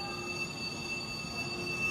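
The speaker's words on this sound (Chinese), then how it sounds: "1688次列车，是厦门北开往贵阳北，前面是车头啊。" High-speed train G1688, running Xiamen North to Guiyang North, at the platform of Wuyishan North station: a steady, even rail hum with faint tonal whine, continuous and unbroken, with no voices.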